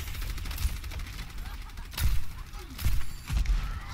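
Sniper gunshots in an Overwatch-style shooter, several sharp heavy shots at uneven intervals, the loudest near the middle and end, over busy game noise.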